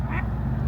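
A duck quacks once, brief and fairly close, by a harbor in Syracuse, over a low rumbling background like engines or water traffic.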